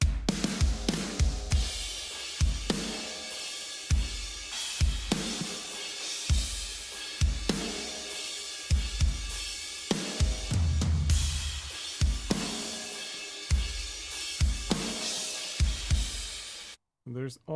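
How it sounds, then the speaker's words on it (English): A Superior Drummer 3 drum kit patch playing a loud, busy groove of punchy kicks, snare hits and washy cymbals, dense and continuous before stopping abruptly at the end. "Let's take a look at the drums. It's Superior 3 patch."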